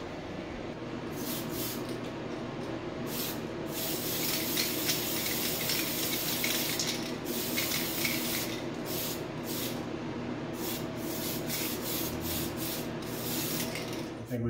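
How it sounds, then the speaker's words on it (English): White spray paint hisses steadily from an aerosol can while coating a Tamiya Toyota Land Cruiser 40 pickup model, a continuous close, airy spray with brief pauses and no talk. "Let's spray paint some white."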